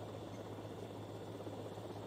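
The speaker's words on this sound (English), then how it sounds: "Use the RC helicopter to transport bombs." An RC helicopter in GTA Vice City Definitive Edition gives a faint, steady whirring engine drone that stays constant throughout, with no talking.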